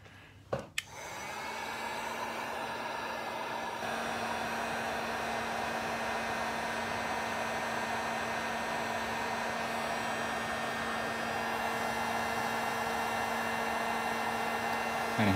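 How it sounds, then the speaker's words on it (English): A heat gun blows steadily for about fifteen seconds, shrinking heat shrink crimp connectors on motorcycle fuel pump wiring; a click and brief burst precede a loud, continuous whooshing hiss with a constant motor whine, and no one speaks. "There's my heat gun."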